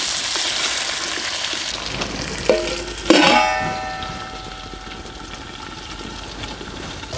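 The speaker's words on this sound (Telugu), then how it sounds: "ఇదంతా ఒకసారి ఇలా కలుపుకొని మూత పెట్టేసుకొని ఒక 5 నిమిషాలు మగ్గించుకుందాం." Vegetable pieces for sambar cooking in a pot, a soft sizzling hiss broken by a sharp metal clang of a spoon or lid around the middle, then a quieter simmering tail.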